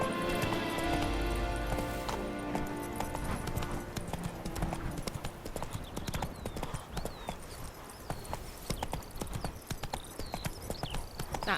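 Horse galloping in The Witcher 3: Blood and Wine, rapid clip-clop hoofbeats in a steady running rhythm over game music and ambience, fairly close throughout.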